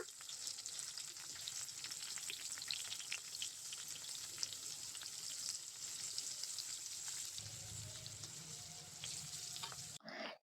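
Stuffed okra frying in oil in a pan: a steady, close hiss and crackle of sizzling that lasts throughout with small stirring sounds, ending in a brief clatter, and no talking.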